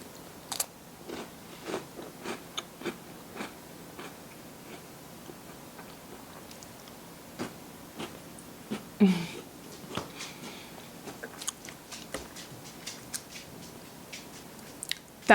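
Someone chews strawberries with cold, stiff butter, producing soft, irregular bites and squishy mouth sounds at close range, fairly quiet and evenly spaced, with no talking over them.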